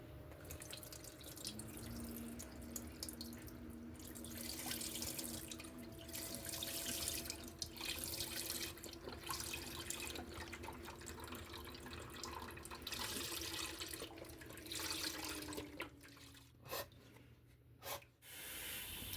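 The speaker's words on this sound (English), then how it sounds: "now into a pot we're going to add in all of our beef stock" Beef stock poured into a cooking pot for hot and sour soup, a steady liquid stream splashing and trickling for several seconds, then a few drips as it ends.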